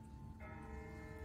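A distant bell tolls faintly in The Walking Dead, a single sustained ring over a low, steady rumble of background noise.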